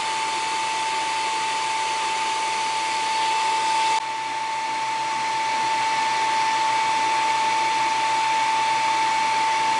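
An xTool D1 Pro infrared laser engraver marks stainless steel with a steady, loud whirring hum like a hair dryer, joined partway through by a constant high-pitched whine.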